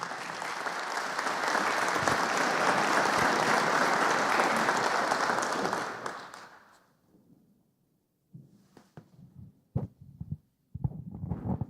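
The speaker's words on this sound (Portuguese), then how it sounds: "com uma calorosa salva de palmas, vamos receber nosso irmão" Loud audience applause fills the first six seconds, then fades out, followed by a few scattered claps and handling noises.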